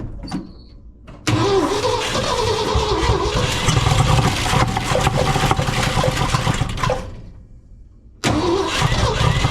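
A 1967 Ford F250 engine cranks and catches after sitting for 30 years, then runs loud and rough at close range for several seconds, cuts out, and fires back up near the end.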